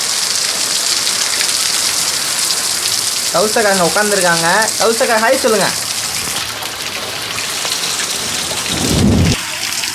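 Heavy rain pours steadily outside a house, near and loud, with trees in front and water running off, while thunder rumbles; partway through, a voice speaks briefly over the downpour.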